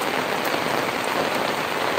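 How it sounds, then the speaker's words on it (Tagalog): Steady rain falling on a surface, a dense even hiss of drops that stays constant and fairly loud throughout with no voices. "Kuya Ebong, rainy, maulan."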